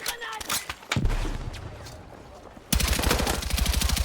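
Gunfire in the video game Battlefield 6, with scattered single shots first, then a loud, rapid, sustained burst of automatic fire close by that runs to the end.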